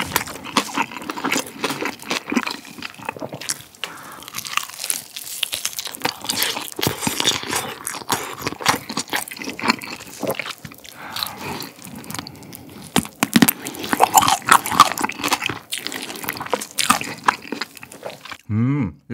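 Crunchy Goobne fried chicken coated in seasoning chips is bitten and chewed up close, with repeated crisp crackling bites and moist chewing running throughout without talk.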